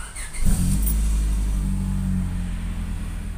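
A 2001 Honda Accord VTi-L, 2300 cc automatic, with a new 4-2-1 header and a muffler without resonator, revs up sharply and holds a loud, deep exhaust drone close by.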